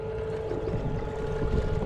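An outboard boat motor runs steadily on a lake after being mounted and started on a boat heading out for pike fishing, a constant low hum with wind buffeting the microphone throughout.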